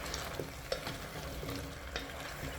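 Potatoes and garlic fry in a pan while being stirred, a soft steady sizzle broken by a few light scrapes and taps of the utensil, heard up close but quietly.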